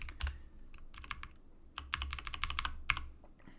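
Bursts of rapid keystrokes on a computer keyboard as a Linux terminal command is typed, fairly close and clear, with short pauses between runs of clicks and a low hum underneath; no talking.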